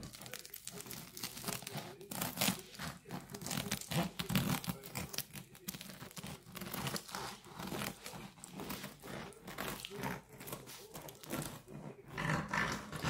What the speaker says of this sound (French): voici ce pain que j'ai sorti du four. On va le couper.